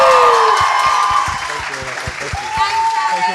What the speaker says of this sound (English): Ladies and gentlemen, keep your applause going.